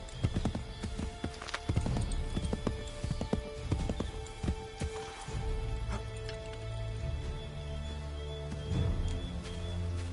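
Horse hooves clop in a quick galloping rhythm in Assassin's Creed 3, close and fairly loud, with a brief whinny and softer hoofbeats later on.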